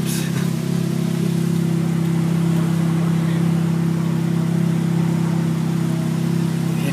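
Steady low engine drone from a Ferrari F430 sports car while driving, a constant humming tone held evenly throughout with no changes in pitch.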